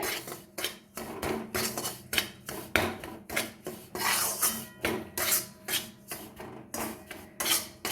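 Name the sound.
rice flour frying in ghee, stirring pan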